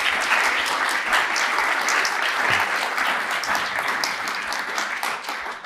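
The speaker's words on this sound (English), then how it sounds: "Let's give him a round of applause" Audience applause welcoming a speaker at a talk: continuous dense clapping from a crowd, steady and fairly loud, thinning slightly at the end.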